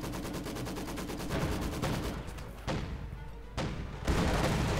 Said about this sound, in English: We got a large wall of Maxims there tearing down the Jaegers